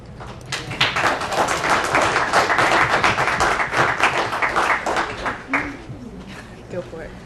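Audience at a Howell, New Jersey township council meeting breaking into clapping, a dense burst of many hands close by that builds and tapers off, with voices underneath.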